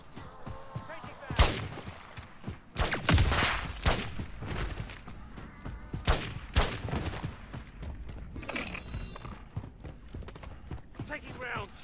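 Gunfire in the Call of Duty MW3 Zombies video game, a few sharp shots and short bursts scattered through the clip amid game noise, with a voice talking over it.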